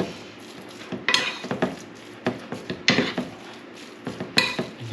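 Deer jerky mixture is stirred hard in a bowl, a run of repeated scraping clanks and clinks in uneven bursts, close by, with no talking.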